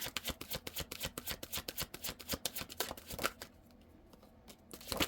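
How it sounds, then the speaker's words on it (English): Tarot cards shuffled by hand in quick rhythmic riffles and flutters for about three seconds, then a quiet pause before the shuffling starts again at the very end, close and clear with no voices. "If you don't like the shuffling, you can fast forward through this part."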